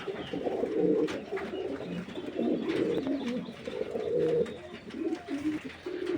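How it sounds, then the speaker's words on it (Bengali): Exhibition homer pigeons in a breeding pair coo in soft, repeated throaty bursts at close range, with faint chirps and farmyard background noise and no talking. "এক্সিবিশন হোমার এটা পেয়ার এটা ব্রিডিং পেয়ার আছে"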